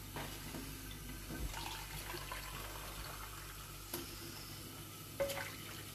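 Tap water running steadily into a container, a continuous soft splashing stream with a few small knocks, alone and fairly quiet.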